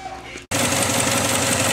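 Subaru engine running after its EGR valve was cleaned, a loud, steady close mechanical hum with a rhythmic pulsing texture that starts abruptly after a brief quiet moment.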